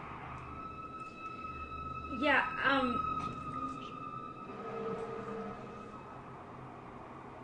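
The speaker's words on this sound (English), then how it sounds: "as sirens play around me" Wailing emergency sirens rise and fall in the distance while a person talks quietly nearby.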